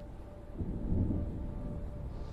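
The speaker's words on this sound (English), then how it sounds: "There's a storm coming." Low rumbling thunder from an approaching storm, swelling to a deep roll around the middle and then lingering as a distant, steady grumble.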